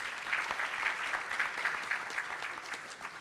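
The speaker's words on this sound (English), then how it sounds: "A big applause to Ibu Dian." Applause from an audience at a World Bank report launch in Indonesia, greeting a G20 engagement group co-chair; steady dense clapping from a mid-sized crowd that holds evenly for a few seconds without fading.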